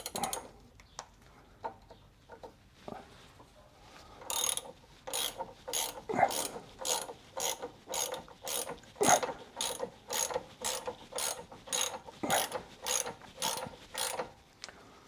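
Ratchet tightening the front and rear drop links on a Jaguar XK8's suspension: after a few scattered clicks, a long, steady series of rhythmic ratcheting strokes, close and fairly loud, with no talk.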